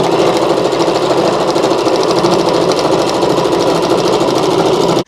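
An ottoman slipcover is sewn on a sewing machine that runs loud and close in one steady, continuous whir of fast stitching, stopping abruptly at the end.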